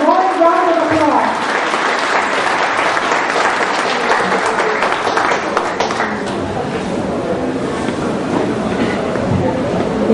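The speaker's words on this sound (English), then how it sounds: "Let's give a warm round of applause." Audience at a lecture forum at the UP Film Institute breaking into loud, sustained applause that fills the room, continuing steadily throughout with a few voices mixed in.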